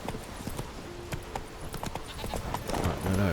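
Roach, a horse in The Witcher 3, clops her hooves steadily at close range, hoofbeats ticking through a rumbling in-game ambience that swells louder toward the end, with a brief whinny-like tone partway through.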